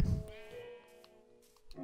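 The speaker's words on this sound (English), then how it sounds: "Ooh, a sheep." A sheep bleats once in the blocky survival game Minecraft, a short wavering cry up close with a soft low thump just before it and quiet pauses around it.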